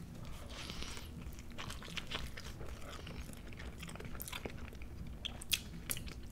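Crunchy bites and steady chewing of a Taco Bell Triple Double Crunchwrap, close to the mouth, with a few sharper crunches near the end.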